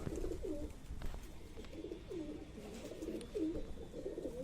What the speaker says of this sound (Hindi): बहुत पुरानी नस्ल का कबूतर।